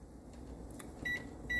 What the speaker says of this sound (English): So I'm gonna stick this back in the microwave